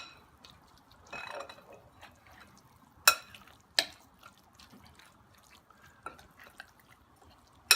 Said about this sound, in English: I'm gonna mix it together. I just use a tablespoon.